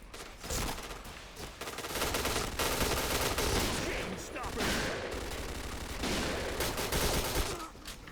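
Rapid video game gunfire rattles in bursts and sustained fusillades, loud and dense, with a voice speaking briefly over the shooting.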